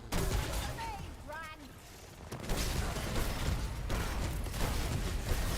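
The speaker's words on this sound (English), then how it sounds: "I'm effectively firing rockets at her right now." A barrage of rockets fires in the video game Remnant 2 against a boss, with dense, continuous blasts and mechanical clatter layered with game effects, loud and unbroken throughout.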